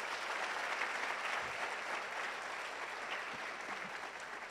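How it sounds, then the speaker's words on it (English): Sustained applause from an audience at a university research week ceremony, steady and dense clapping filling the hall throughout without pause. "Please, can we give him a round of applause?"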